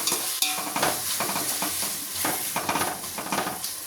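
Chopped tomatoes with a spoon of salt and a little turmeric get stirred in a frying pan, giving a close, steady sizzle broken by repeated scraping and clinks of the spoon against the pan.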